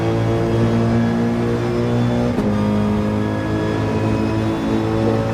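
A Mercedes-AMG GT3 race car engine in Gran Turismo 7 at Monza drones steadily and loudly, with a brief shift or blip partway through and then a continued high-revving hum.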